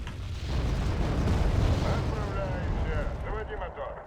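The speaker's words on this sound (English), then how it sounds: "Well, that is rocket artillery." Rocket artillery fire in the video game Wargame: Red Dragon, set in a 1984 campaign, rolls as a deep, sustained rumbling barrage of blasts, with a voice talking over the tail.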